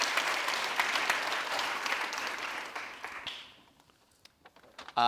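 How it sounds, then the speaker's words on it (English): Conference audience claps in a full round of applause that holds for about three seconds, then thins to a few scattered claps before fading out. "so big round of applause for all of this."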